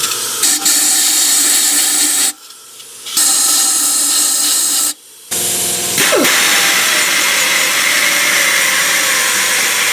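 A power tool buffs the surface of a Chevy engine intake while replacing a spider injector on a 4.3, 5.0 or 5.7 motor, giving a loud, close, hissing grind that breaks off twice briefly before resuming.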